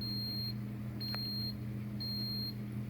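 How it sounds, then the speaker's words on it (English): Three evenly spaced high electronic beeps from a Ninja Coffee Bar coffee maker signalling brewing is done, about a second apart, over a low steady hum. "oh, there's the beep."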